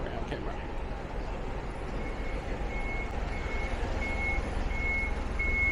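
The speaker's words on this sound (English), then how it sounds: "Woolworth truck is making a racket." A Woolworths delivery truck reverses on a Melbourne street, its backup alarm beeping in a steady, evenly spaced rhythm over continuous traffic rumble and engine noise, growing slightly louder toward the end.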